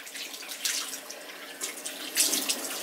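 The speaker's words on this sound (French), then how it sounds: "on va rincer le visage, hein, comme tout à l'heure." Tap water runs steadily into a sink while a face is rinsed during an evening routine. The flow is close and continuous, with splashy surges as hands move through the stream.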